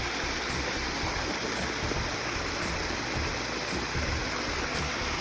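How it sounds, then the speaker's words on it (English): Water pours steadily over a garden pond waterfall, a constant close rushing splash with no pauses. "I love the pressure that the water comes over the waterfall."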